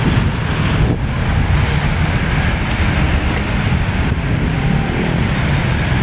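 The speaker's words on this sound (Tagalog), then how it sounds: "Mahangin dito guys, medyo masarap sa pakiramdam." Strong wind gusting by the sea, roaring across the microphone in a constant broadband rush with the wash of surf beneath, loud and unbroken with no voices.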